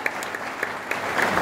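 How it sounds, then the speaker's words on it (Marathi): An audience claps for a speaker at a poetry event, a short burst of steady applause that swells slightly toward the end. "जोरदार टाळ्या एकदा सरांसाठी वाजवा."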